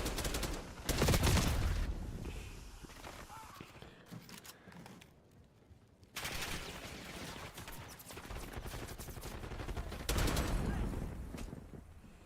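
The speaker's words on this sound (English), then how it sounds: "Enemy sniper shooting" Bursts of rapid gunfire during a Black Ops match, loud volleys at the start and again near the end with quieter shots between, under a voice.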